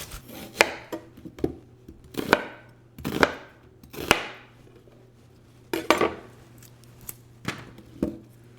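A knife quarters vegetables, including a yellow onion, on a cutting board in a series of sharp, irregular cuts, each a crisp thunk, with a low steady hum underneath.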